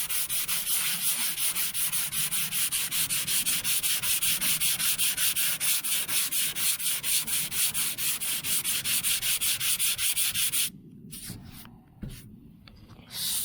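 Hand sanding the body of a 1978 Chevy Nova with sandpaper: close, loud, rapid rhythmic back-and-forth rasping strokes running steadily for about eleven seconds, then a few scattered rubs and pauses.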